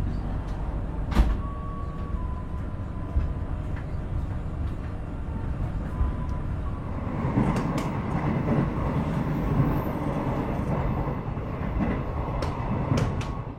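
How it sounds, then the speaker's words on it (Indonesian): Kaligung passenger train departing Tegal station, a continuous low rumble of rolling rail cars with occasional sharp clanks and squeaks, growing somewhat louder and busier in the second half. "Barusan itu kereta api Kaligung sudah diberangkatkan dari stasiun Tegal."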